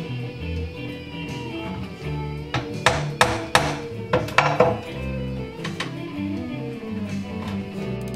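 Hammer tapping on a robot cover to mark drill points, a cluster of sharp metallic knocks mid-clip over a steady background hum, close and moderately loud.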